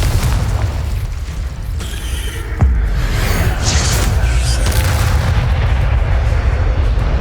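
Confringo blasting spell cast in Hogwarts Legacy, a sharp burst followed by crackling impacts amid dense, continuous spell-combat noise and rumbling effects.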